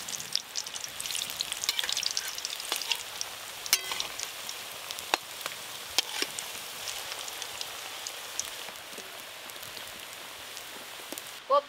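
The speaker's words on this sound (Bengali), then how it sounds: "এবার আমি কোফতাগুলো ভেজে নেব।" Banana flower koftas frying in hot oil, a steady close crackling sizzle with scattered sharp pops throughout.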